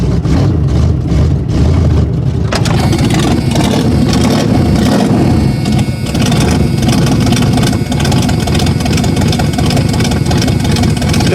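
Ford Granada engine running just after starting on a weak battery, reluctant on throttle: loud, close, steady rumbling idle with some irregular roughness early on, continuing unbroken, no voices over it.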